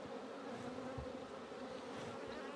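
Honey bees buzz around an open hive during beekeeping, the colony somewhat nervous and aggressive; a dense, steady, close swarm drone fills the scene with no talking.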